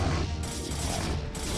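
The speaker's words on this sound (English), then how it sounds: "Look at him chomping through these cannons." Zealots hack at photon cannons in StarCraft: Brood War, a dense, continuous clatter of rapid melee hits and crunching impacts, loud and close, with no voices over it.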